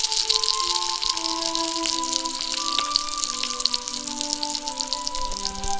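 Aloo dum gravy simmering after added water, a close, continuous bubbling and spattering with fine crackles and small pops, steady throughout, accompanied by faint background tones.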